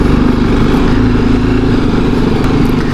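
BMW G310 GS single-cylinder motorcycle engine pulling at low revs, a steady loud throbbing drone close by with no talk over it.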